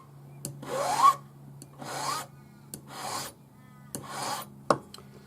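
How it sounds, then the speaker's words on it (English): Metal being worked with a number 2 cut flat hand file: four slow rasping strokes, each a broad burst of scraping, with a steady low hum in the background and a sharp tap near the end. "then we're going to file with our number 2 cut flat hand file"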